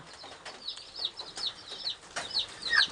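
Layer and tiger chicken chicks give repeated thin, high peeps and cheeps in short irregular bursts, close by and fairly quiet, with light rustling between calls and no talking.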